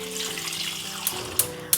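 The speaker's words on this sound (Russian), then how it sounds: "Все ингредиенты заливаем холодной водой" Cold water from a tap runs steadily over chicken soup ingredients in a pot, a close, continuous hiss with a few small clinks near the end.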